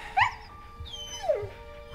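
A dog gives short high whimpers and yips with a drawn-out whine, fairly faint against a quiet outdoor background.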